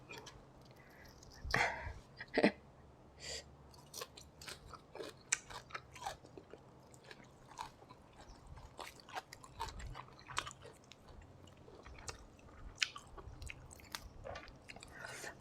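Someone eats sticky rice with fermented soybean chili dip and fresh vegetables close to the mic, giving soft wet chewing and occasional crunchy bites that continue irregularly, with faint whispery breaths in the quiet.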